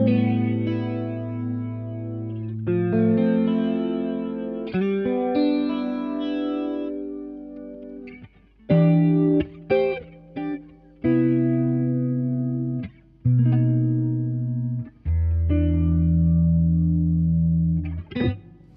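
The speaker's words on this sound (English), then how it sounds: "So now we've got the supersonic stereo flanger." Electric guitar through a supersonic stereo flanger pedal, split into two small transistor amps including a DOD Grunge amp, with reverb; sustained chords and single notes swirl with sweeping, jet-like modulation, separated by short pauses.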